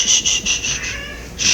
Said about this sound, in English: Kitty's screaming in the background